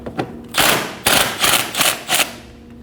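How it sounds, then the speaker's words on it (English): Rapid ratcheting bursts from a 12mm socket wrench loosening intake plenum bolts on a 2011-2016 Kia Optima, several short clattering runs in quick succession, close and loud with no talk. "Go ahead and take those out using a 12mm socket."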